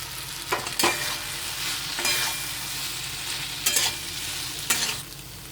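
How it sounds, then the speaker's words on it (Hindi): Potatoes frying with spices over medium heat in a pan of cooked-down tomato, a steady broad sizzle under a few louder scraping stirs spaced a second or so apart. "अब इसमें मैं आलू डाल के 1 मिनट तक मध्यम आंच पे 1 से 2 मिनट तक फ्राई कर ले।"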